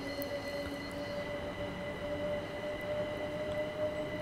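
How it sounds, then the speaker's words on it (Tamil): An electric multiple unit train running at speed in Train Sim World 4, a steady rolling rumble with a constant motor whine and faint wheel noise, no voices. "ஸோ பார்த்தீங்களா இங்கே ஒரு மல்டிபிள் யூனிட்"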